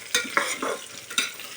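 Dried red chillies and coriander seeds frying in a pan are stirred with a spoon, three or four quick rough scrapes over a light sizzle, close and fairly loud, no speech.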